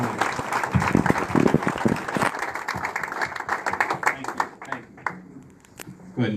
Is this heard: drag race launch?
no